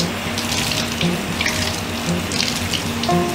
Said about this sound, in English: Nicely rinse in running water.